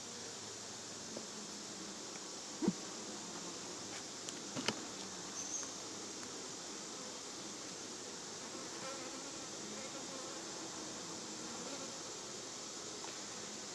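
Honey bees buzz steadily inside a queenright hive with capped brood, a dense continuous hum that fills the whole stretch, with a couple of brief knocks near the start.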